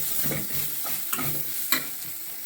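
Cashew curry with spices being stirred in a hot pan, a steady sizzle with soft scraping strokes and a couple of light taps.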